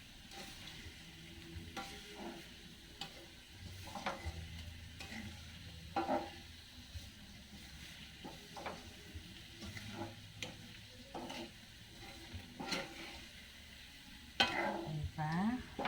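Bananas frying in cooking oil for a homemade snack, with a steady soft sizzle and repeated stirring scrapes and clinks throughout, a louder clatter near the end; no talking.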